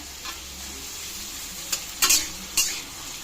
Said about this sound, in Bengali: গ্যাসটা একদম মিডিয়ামে করেই ভাজবেন, না হলে পুড়ে যাবে মশলাটা।